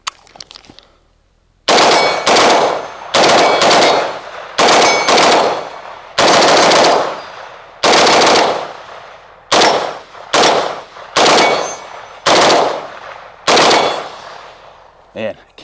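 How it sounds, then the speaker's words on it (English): A rifle fitted with a dogleg dust cover fires in rapid strings of shots, loud and close, with brief pauses between bursts over about fifteen seconds. "I'm gonna try and shoot these relatively quick."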